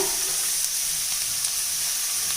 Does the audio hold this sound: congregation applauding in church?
no